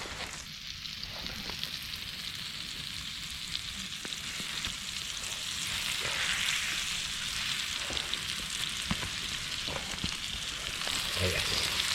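Scottish ribeye steak sizzling on an outdoor gas stove, a dense continuous crackling hiss that swells slightly louder midway, with faint scattered pops and no talk.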